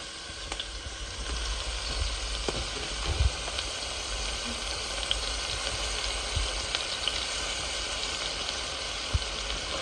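Garlic powder and spices frying in a pan while being stirred, a steady close sizzle with occasional soft scrapes and taps of the spoon, no speech.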